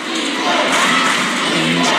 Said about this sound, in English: The crowd coming alive at BGA.